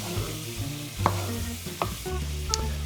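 Chopped onions and garlic cooking in a goulash pot are stirred close up, giving a few distinct spoon scrapes and taps against the pot over a low, steady sizzle with no talking.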